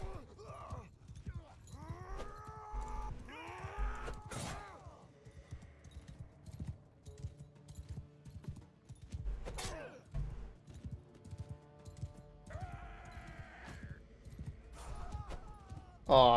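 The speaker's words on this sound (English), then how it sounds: "Oh dang, they have horses." Horse hooves clip-clop through a battle in the medieval game Mount & Blade II: Bannerlord, rhythmic and mid-distance, mixed with game effects, while a player talks over them at intervals.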